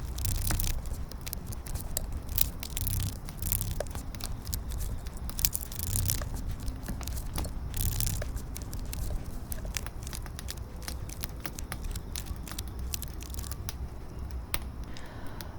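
Tarot cards are shuffled, slid and laid out on a table in a long run of close, crisp flicks, rustles and taps with an uneven rhythm, no voices over them.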